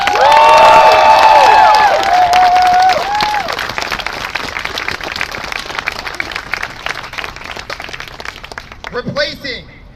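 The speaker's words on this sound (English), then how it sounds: "Can we have some people clap for that?" A crowd at a rally against police brutality bursts into loud clapping with cheers and whistles at the start, then settles into steady applause that fades toward the end, where a voice speaks.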